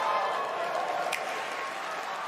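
Conference crowd at E3 2019 cheering and applauding, a dense continuous wash of distant clapping and voices throughout.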